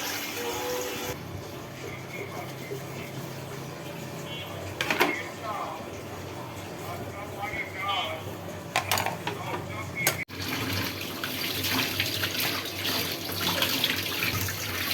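Breakfast dishes washed under a running tap at a kitchen sink, a continuous hiss of water with occasional clinks and knocks of plates, someone talking over it at times.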